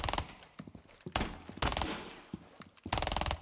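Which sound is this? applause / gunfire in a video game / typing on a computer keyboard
gunfire in a video game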